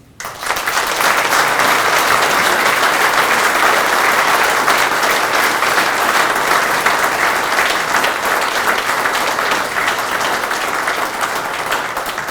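Sustained loud applause from an audience after a veteran's speech at a Veterans History Project event, dense clapping that starts abruptly and carries on evenly without talk.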